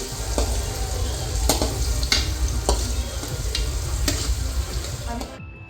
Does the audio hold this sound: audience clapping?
no